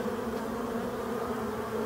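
Black honeybees working ivy and phacelia blossoms around hives in a Brittany apiary make a steady, dense, close humming drone that holds even and unbroken throughout.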